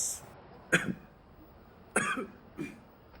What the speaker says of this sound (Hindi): लाहौर आके मुझे भी खांसी शुरू हो रही है।